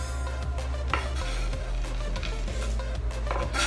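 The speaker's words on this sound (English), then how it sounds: "Finally chopped chocolate in, and then Dustin's gonna fold it all together" Chopped chocolate being gently folded into pavlova meringue mixture in a bowl, a steady scraping and stirring rub with soft rhythmic strokes over a constant low background hum.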